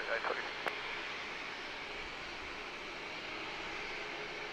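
Jet airliner approaching San Diego airport, a steady broadband roar of engine noise holding even and fairly distant throughout, with a brief crackle of radio chatter near the start.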